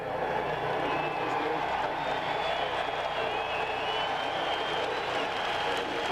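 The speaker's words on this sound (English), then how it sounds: "the ovation going up as more word is passed out among the crowd" A NASCAR race crowd of thousands at the 2001 UAW GM-Quality 500 roars in a sustained ovation with steady applause and cheering, broad and distant, a faint whistle-like tone drifting above.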